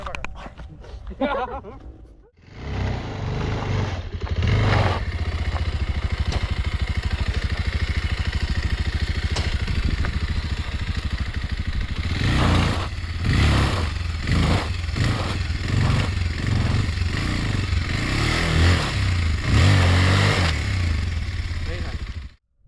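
A Bajaj Pulsar 220F motorcycle performing stunts near a dam roars loudly and almost without a break for about twenty seconds, its engine repeatedly revving and surging, with a sharp start after a brief quieter opening.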